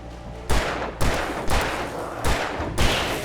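Gunfire in Alan Wake Remastered, five loud sharp shots spaced roughly half a second apart, each with a ringing tail over a steady droning background.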